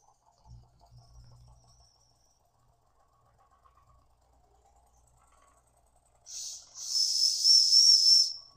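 A Weeden No. 43 toy steam engine, fitted with a whistle topper that whistles poorly, stays quiet with faint ticks at first. Then it lets out a loud hissing rush of steam carrying a thin, wavering whistle tone for about two seconds.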